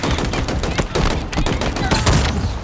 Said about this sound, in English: In the gameplay demo, it did seem like a rather irregular firing pattern when it came to shooting those grunts.